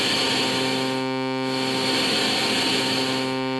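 A Moog Micromoog synthesizer plays its noise source mixed with its oscillator, a steady, loud buzzing drone with a hissy edge that holds constant throughout, with no talk.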